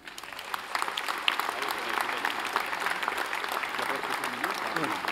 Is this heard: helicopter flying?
no